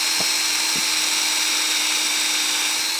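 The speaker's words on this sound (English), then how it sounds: "And then we want to drill it on an upward angle because we don't want the sap to freeze in there overnight." A drill bores an upward-angled tap hole into the sapwood of a maple tree, making a steady, close, high-pitched whine that runs unbroken for the whole moment.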